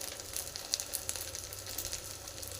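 Sago pakoras deep-fry in hot oil with a brief, steady sizzle and crackle heard up close, with no voices.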